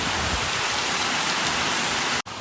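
Heavy downpour pounds steadily, a dense loud hiss of rain at a cow shelter, with a brief dropout near the end.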